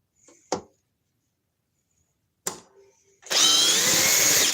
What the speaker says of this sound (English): Man, I don't think I've seen a drill this quick before.